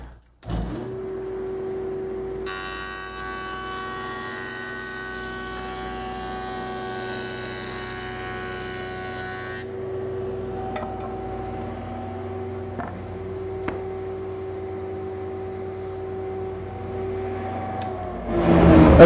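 A wood jointer runs steadily as a board is fed gently across it for flattening, its motor hum constant and close, with a brighter cutting whine through the middle and a few sharp ticks before it spins down.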